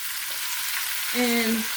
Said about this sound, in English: we're going to caramelize our onions